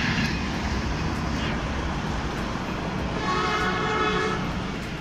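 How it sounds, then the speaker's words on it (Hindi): A train arriving near a busy food street in Lahore, a steady loud rumble with brief horn-like tones, heard up close and continuing throughout. "तो अभी ये ट्रेन आ गई है।"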